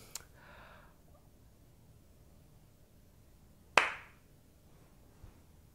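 A single sharp clap from one audience member at the back of a comedy show, loud and isolated against near-silence, with a faint tap just after.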